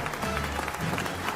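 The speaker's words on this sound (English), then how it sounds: "The crowds are roaring, but the elf is not done yet." Arena crowd in a Warhammer dueling scenario roaring and clapping, a dense, even wash of cheering and applause that holds at moderate loudness throughout a brief stretch.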